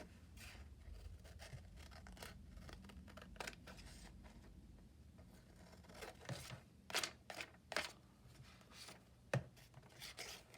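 Paper for a handmade Christmas journal trimmed with scissors, a few crisp snips and rustles near the end after quieter handling, close and soft, no voices.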